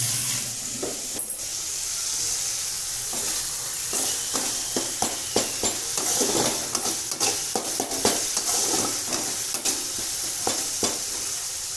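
Potatoes frying in a pan with spices, a steady loud sizzle under repeated scraping stir strokes and clinks of a utensil against the pan.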